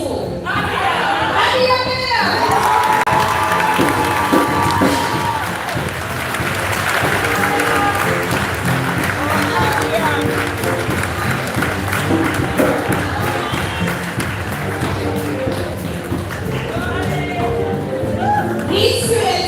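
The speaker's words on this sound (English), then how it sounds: "I invite a rousing round of applause for all the students" Sustained applause from a crowd at a Jamaican high school graduation ceremony honoring the students, dense steady clapping lasting throughout with crowd chatter mixed in.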